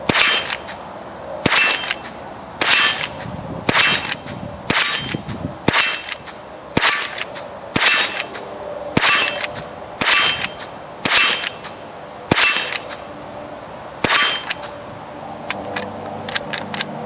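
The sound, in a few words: gunshots from a Henry rifle fitted with HIVIZ sights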